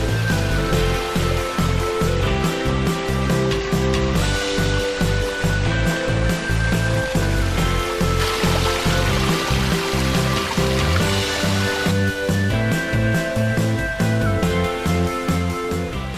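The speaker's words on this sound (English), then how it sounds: "Up at the top there, you see where the waterfall begins at." Backyard mossy waterfall streaming steadily from its disguised spillway, a continuous broad rush of falling water with no pauses, close and fairly loud throughout.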